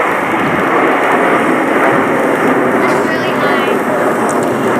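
RAF Red Arrows jets flying a formation loop at an air show in New York produce a loud, broad, continuous roar that stays steady throughout.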